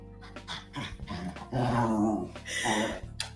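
A dog growls and whimpers with yips and low rumbles behind a busy, music-like background, the sounds rising in intensity midway and staying moderately loud throughout.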